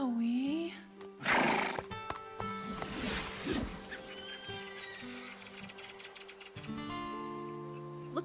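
An animated cartoon horse whinnies loudly at the start, followed by more neighing and snorts over a busy background of other animal calls, with a voice briefly heard.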